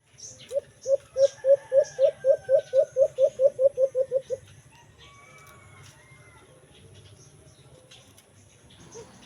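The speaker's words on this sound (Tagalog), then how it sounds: "So ito na po ang huni ng pangalawang huli natin na alimokon mga paps" An alimokon dove calls in the forest, a fast run of about fifteen evenly spaced hooting notes close by, then a quieter stretch with faint background bird sounds.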